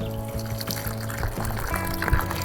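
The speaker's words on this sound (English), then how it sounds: "So now I'm gonna go get some dirty pool water and water all these plants" Dirty pool water poured gently onto young garden plants, including a baby tomato, with a continuous splashing trickle that rises and gurgles as it pours.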